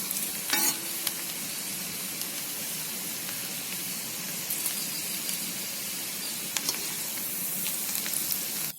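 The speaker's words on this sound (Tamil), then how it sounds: "இங்க பாருங்க, இதை போல இஞ்சி செவரை வறுத்துக்கோங்க." Ginger slices fry in hot oil in a pan with a continuous close hiss and crackle, stirred now and then with brief scraping clinks, no voices.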